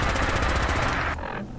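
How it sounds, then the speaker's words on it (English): A gatling laser in a video game fires a short, dense rapid-fire burst that rattles for about a second at close range and then cuts off abruptly. "and I'll fire a burst"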